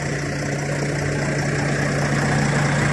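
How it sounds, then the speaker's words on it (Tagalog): A refrigerated truck trailer's reefer unit engine runs steadily up close, a loud, even mechanical drone with a constant low hum and no pauses or talking. "yung reefer engine niya, yung makina ng refrigerator niya"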